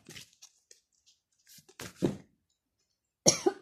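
A person coughs several times, nearby and fairly loud, with scattered short bursts and quieter throat noises and a sharper cluster of coughs near the end; no speech.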